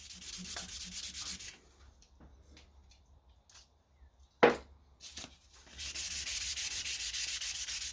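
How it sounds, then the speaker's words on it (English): Rhythmic scratchy strokes of 800-grit sandpaper rubbing a coal hammer's metal, then a quiet pause with a sharp knock, before steady hand sanding resumes close by. "Now it's time to hand sand it to an 800 grit"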